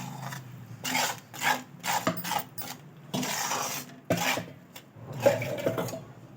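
Ground masala paste is stirred into hot ghee in a kadhai for a kaju makhana dish, with a spoon scraping and rasping against the metal pan in irregular strokes, close and fairly loud.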